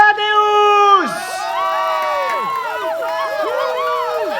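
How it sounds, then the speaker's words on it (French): A live audience cheers and shouts for a band at an evening music show, a dense burst of voices and whoops filling the space without pause. "Merci beaucoup pour vos chaleureux applaudissements."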